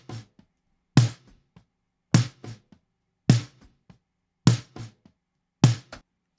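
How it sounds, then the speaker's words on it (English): A dry snare drum part played alone without parallel processing, five sharp hits at a steady pace, each followed by softer ghost notes, with silence between and no voices. "When we hear the snare part all by itself, this is the sound we get without the parallel process in."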